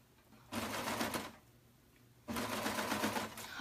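A serger feeds fabric with elastic in two loud, steady bursts of rapid whirring stitches, the first about a second long and the second longer, separated by a quiet pause, close and without talk.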